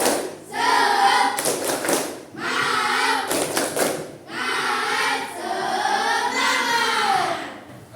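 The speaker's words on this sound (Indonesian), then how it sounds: "Tepuk semangat." Primary school pupils perform a rhythmic spirit-clap routine in class, short bursts of group claps alternating with loud chanted voices across several seconds.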